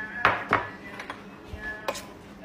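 Fattoush salad tossed with dressing, with a handful of sharp clicks and clatters of utensils against the bowl at irregular intervals.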